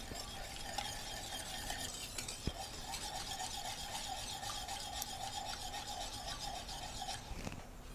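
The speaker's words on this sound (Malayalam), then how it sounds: "നന്നായിട്ട് ഇളക്കി യോജിപ്പിക്കുക" An egg and milk mixture with vanilla essence, for crème caramel, is stirred in a bowl, giving a soft, continuous scraping rub that runs steadily throughout at low volume, with no talking.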